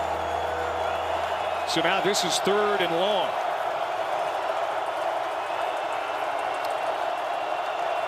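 A packed college football stadium crowd at an Idaho Vandals versus Montana State Bobcats game, a steady loud roar throughout, with a commentator talking over it and a short whistle-like tone early on.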